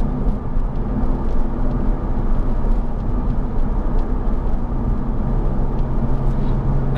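A Porsche 997 Carrera 4 with a 3.6-litre engine fitted with a Carrera S add-on part, giving a steady, loud, deep engine rumble that holds evenly throughout with no talking.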